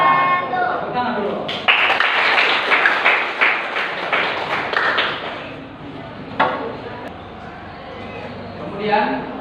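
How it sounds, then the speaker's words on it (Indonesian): Audience applause at a school Islamic religious education class session, a burst of clapping rising after a brief pause and fading into talk, with speech heard over and around it. "Tepuk tangan dulu."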